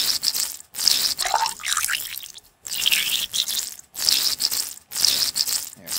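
Water pool sound sample played repeatedly in the Max MSP patching software, bursts of sloshing, bubbling water about a second long separated by brief silences, each replay slightly altered in pitch.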